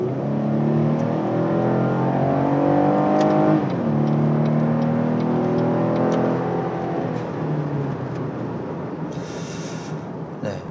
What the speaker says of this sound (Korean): 여기서 한번 추월을 하면서 좀 밟아 볼게요.